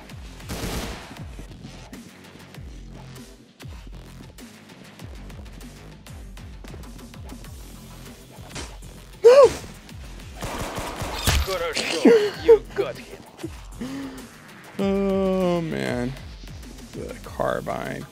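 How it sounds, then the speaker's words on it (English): Sniper rifle shots in the Roblox shooter game Arsenal crack out as a few sharp, loud reports over scattered game effects, while a player talks throughout. "I aim and I shoot you in the head."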